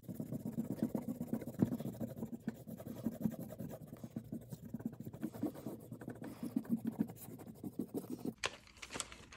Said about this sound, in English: Right now, I'm going to erase my pencil.